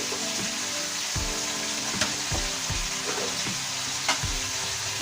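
Garlic cloves go into a hot pan with ground coriander, cumin and green chillies, a bright steady sizzle with a few soft stirring thumps and small pops, no voices.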